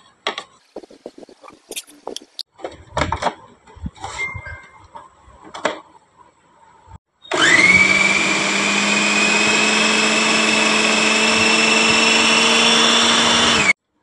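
After a stretch of clinking and handling noises, an electric chopper starts up and grinds lentils with onion and green chillies in a loud, steady whirring drone for several seconds before stopping abruptly.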